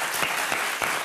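A French game show studio audience bursts into dense, steady applause for the contestants, a loud continuous wash of clapping from many hands filling the whole moment.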